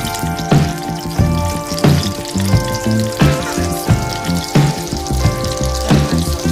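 Four tablespoons of unsalted butter sizzle and crackle loudly in a hot pan, with a dense, steady frying hiss broken by sharp pops and clinks of utensils.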